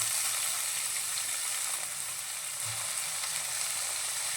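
Chopped onions sizzle with green peas in a pan, a steady, soft hiss of frying oil that goes on throughout with no voices.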